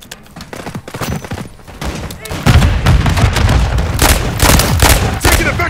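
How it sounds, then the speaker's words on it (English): Rapid bursts of gunfire fill a military shooter video game, with dense overlapping shots and heavy booms that grow louder halfway through while radio-style voices call out over the action. "Taking effective fire!"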